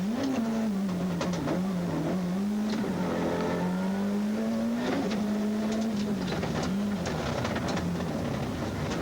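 Onboard a Toyota rally car in a 1996 Race of Champions run, the engine drones loud and steady, pitch rising and falling as the driver works the throttle through gear changes, with gravelly rattles and thumps throughout.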